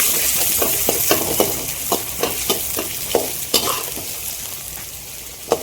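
Veg fried rice stirred in a pan, a spatula scraping and knocking in a steady series of sharp strokes over a soft sizzle, close and fairly loud with no voices.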